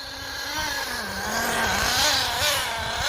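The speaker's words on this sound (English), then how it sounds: "the engine's got loads of power and she wants to go, but she's idling way too high." An HPI Firestorm 10T RC car's nitro engine, fitted with a new carburettor, idles too high with a loud, buzzing drone that wavers slightly in pitch, running continuously up close.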